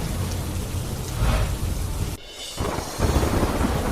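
Heavy rain driven by strong wind pours down in Veraval, Gujarat, a loud, dense roar that briefly drops away before surging back.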